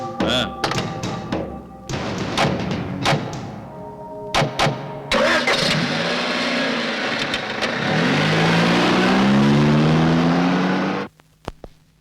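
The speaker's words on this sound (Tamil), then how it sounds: "ஏய், வண்டியை பின்னாடி எடுத்துரு" A car engine starts and revs as the vehicle is moved back, preceded by several sharp thumps and knocks, then a loud sustained rising engine drone that cuts off abruptly near the end, with voices briefly audible.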